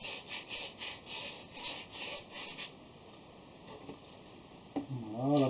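Wire brush scrubbing a freshly lathe-cut 12x1 mm metal thread, a run of quick rhythmic scratchy strokes up close that fade out, followed by a brief clatter.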